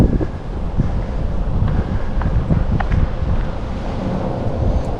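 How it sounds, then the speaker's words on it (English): Strong wind buffets the microphone on an exposed hilltop on a fine day, a continuous heavy low roar with gusty swells and no voices. "when you get up this area, it might be a little more windy."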